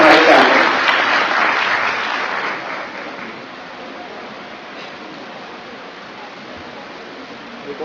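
Audience at a book launch ceremony at Karachi University claps in a dense burst of applause that starts loud and gradually thins and fades over several seconds.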